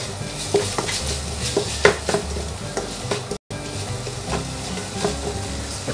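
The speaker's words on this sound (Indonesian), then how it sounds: "Kita aduk rata." Noodles with chicken and mushrooms are stirred and fried in a wok, with a steady sizzle broken by repeated metallic spatula scrapes and clanks against the pan, close and fairly loud, with no talking.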